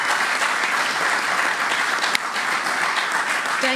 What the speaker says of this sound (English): Let's give that round of applause.